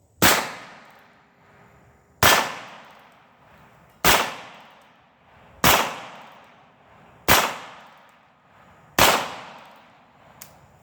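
A Heritage Rough Rider .22 revolver fires six sharp, evenly spaced shots about two seconds apart, each a loud, close crack trailing into a brief ringing decay, with quiet handling noise between them.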